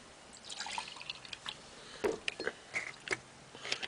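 Milk poured into a glass during a taste test of different milks, giving scattered light drips and small splashes with short gaps and a few brighter plinks near the end, fairly quiet and close, with no talking.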